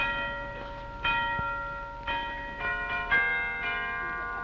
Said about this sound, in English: yonder the bells are tolling out the mystic hour of 12.